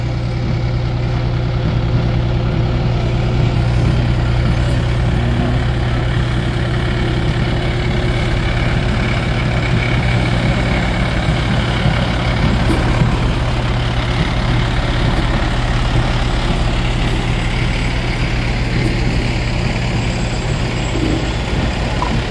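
Fire department engines idle in a parade, a loud, steady low diesel rumble with a constant hum that stays unchanged throughout.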